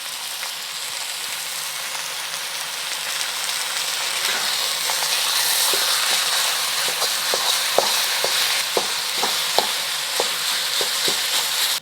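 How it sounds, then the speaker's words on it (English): Ground beef searing in a large wok, a continuous loud sizzle with a run of sharp spoon or spatula taps and scrapes growing more frequent toward the end, no talking. "we're gonna put all the meat in there and cook it up"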